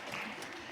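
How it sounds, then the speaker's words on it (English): Brief, faint applause from a small live audience at a talk, a short burst of scattered clapping with no voices over it. "Let's give Mary a round of applause"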